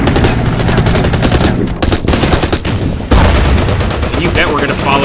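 Rapid bursts of gunfire from the strategy video game Order of Battle: Burma Road, loud and close, with dense rattling volleys that pause briefly before resuming.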